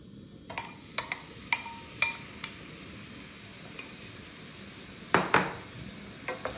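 Chicken fries in a pan with a little corn oil, a steady quiet sizzle punctuated by repeated sharp clinks and scrapes of a utensil stirring against the pan, with a louder clatter near the end.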